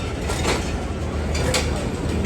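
The Queen of Sindh express, running between Jacobabad and Karachi, rumbles at a station platform in a loud steady low drone with faint rail clatter and light bursts of noise.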